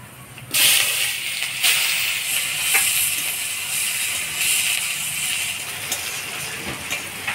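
Chopped onion drops into hot tempering oil with black cumin seed in a pan and sets off a sudden loud hissing sizzle that holds steady, with a few stirring scrapes over it.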